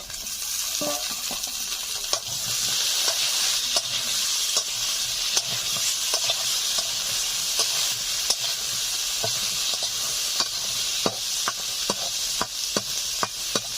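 Reddish-fried potatoes and bottle gourd stalks sizzle loudly in a pan for a catla fish dish, with steady frying hiss and frequent sharp clicks of a spatula stirring, close up and without speech.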